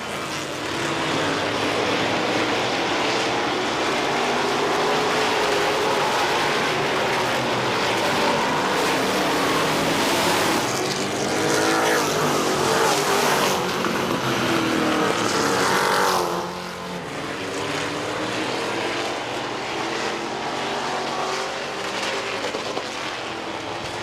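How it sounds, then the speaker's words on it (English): Street stock race cars in a heat race at Midvale Speedway, a dirt oval, roar past in a continuous loud engine drone that swells as the pack passes close, then eases slightly toward the end. "Halfway to go in your Snap-on Tools by Doug Pool Street Stock Heat Race."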